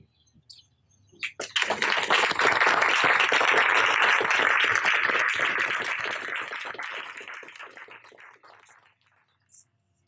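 Audience applause after poetry readings at an arts café, a full round of many hands clapping that swells quickly, holds steady and then tapers off to silence.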